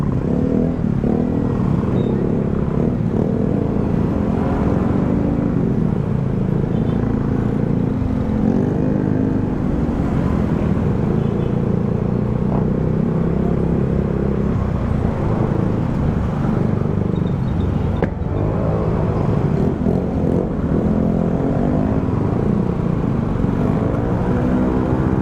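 Heavy rush hour traffic on a street in Calicanto, Batangas City, a dense and continuous roar of cars and motorcycles passing close, holding a steady level throughout with no voices.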